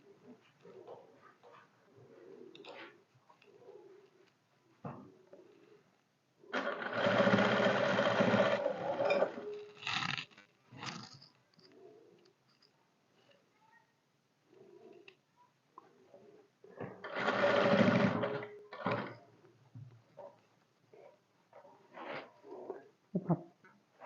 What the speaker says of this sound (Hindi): हल्के हाथ से आप सिलाई लगाते जाएं